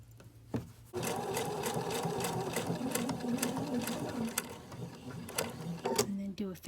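A sewing machine stitching an appliqué onto a T-shirt tote bag, starting after a brief pause, then running in a fast, even mechanical rattle of close stitches before slowing to a stop.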